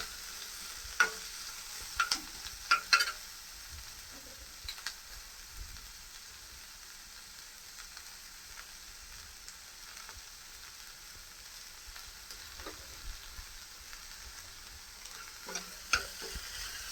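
Onions and curry leaves fry quietly in a pan with a soft continuous sizzle, broken by occasional scraping stirs and light clicks of the spoon, faint and close with no voices.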